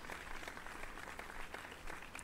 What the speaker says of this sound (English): I don't like the applause.